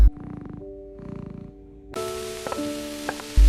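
A pet cat purrs close by in two short rhythmic bursts, followed by soft background music.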